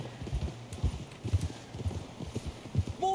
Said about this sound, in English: this is already because we're riding a horse